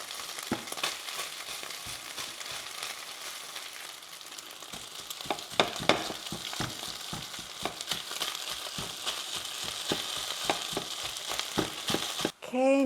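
Ground pork for a spicy garlic ginger dish sizzles loudly in a pan while a spatula breaks it up and stir-fries it, with repeated sharp scraping and tapping strokes over a continuous hiss.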